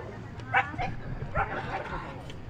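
Dogs squabbling on Nusa Penida island in Bali, with a few sharp yips and barks rising out of a busy background murmur, the loudest bursts coming in two short flurries.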